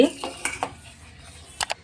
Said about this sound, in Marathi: सतत आपणाला याला चमच्यानं असं हलवून घ्यायला लागतं